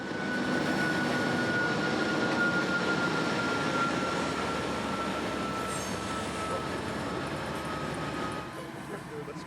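A freight train with RJ Corman gondola cars rolling past on a Tampa area main line, a steady loud rumble and rattle of cars with a faint tonal whine, easing off near the end.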